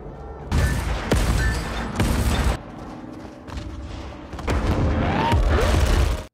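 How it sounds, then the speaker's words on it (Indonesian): Explosions from a Soviet aircraft attack on German troops in a war film: loud bursts and booms in several heavy clusters, with rumbling between them and no talk over the blasts. "Dan suara dentuman ledakan mengusir kawanan serigala."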